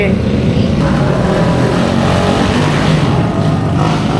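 Motorcycle engines rev loudly and continuously nearby during a noisy New Year celebration, a dense rough roar with voices shouting underneath.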